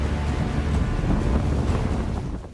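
Strong gale-force wind, around 9 to 10 Beaufort, roars over a stormy sea as furious waves crash onto a beach in northern Greece, a loud continuous wash of surf and wind buffeting with no voices.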